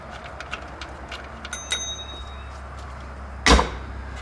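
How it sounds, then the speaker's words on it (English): A single bright bell ring bursts out near the end, loud and close, after a stretch of quiet workshop noise with faint ticks, around a Jeep AMC 2.5L engine water pump job. "Bicycle bell."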